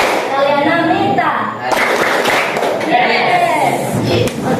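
Buddhist students in Indonesia clap in a rhythmic group chant, their voices calling out together over the steady beat of many hands.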